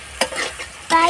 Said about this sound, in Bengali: একদম নর্মাল খানা লাড়া দেওয়া হইতেছে